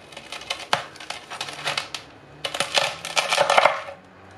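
A knife cuts through crispy air-fryer roast pork skin, giving sharp bursts of crackling and crunching in two close-up clusters, with no talk over them.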